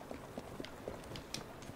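Horse hooves pulling a carriage in the video game Assassin's Creed Syndicate: a faint, steady clip-clop at a quick trotting rhythm, distant and low in level.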